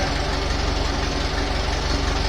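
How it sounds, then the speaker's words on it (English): A small four-cylinder gasoline tractor engine, a Farmall or Case, runs at a steady idle with a dense, even low rumble and rapid firing pulses, close and loud throughout. "Yeah, I like the sound of these little engines."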